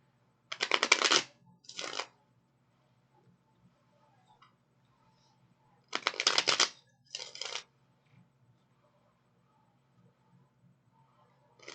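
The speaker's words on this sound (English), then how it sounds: "All right, let's get a few more good shuffles and then we'll hop into it." Two bursts of tarot card shuffling, each a quick riffle followed by a shorter one, separated by several seconds of near silence with faint rustles.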